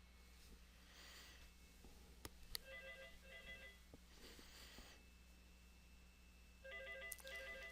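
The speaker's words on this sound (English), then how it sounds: "I have a phone ringing" A telephone ringing during an online teaching session, heard as two short bursts of ringing tones a few seconds apart, faint and somewhat distant, over a low room hum with soft breathing noises between rings.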